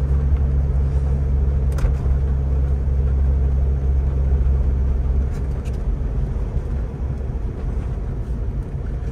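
A 1984 BMW 633CSi with a five-speed gearbox cruising in fourth gear at about 30 mph, its steady low engine and road rumble droning continuously from inside the cabin.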